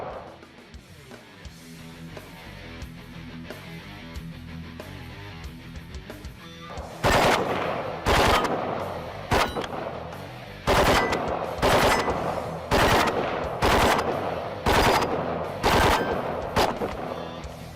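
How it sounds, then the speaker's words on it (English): A Steyr AUG A3 rifle fires loud, rapid 3-round bursts at steel targets. The bursts repeat at roughly one-second intervals after a quieter opening stretch. "Now we're going to get to see just how tight these patterns can be with this 3-round burst"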